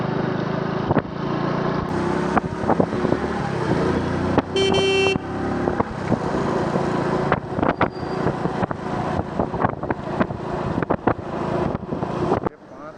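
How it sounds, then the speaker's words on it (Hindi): Trucks and other traffic roll past on a flooded village road just after heavy rain, tyres hissing and splashing through standing water, with a steady roar throughout, a brief horn toot near the middle, and wind buffeting the microphone. "अभी सामने जो ट्रक वगैरह चल रहे हैं"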